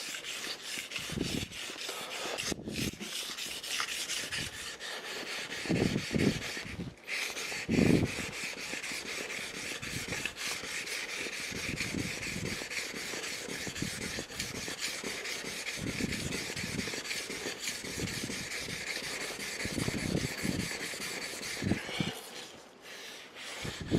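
A sashimi knife being sharpened on a whetstone, a continuous rhythmic rasping as the blade is rubbed back and forth over the stone, close and steady with brief pauses between strokes.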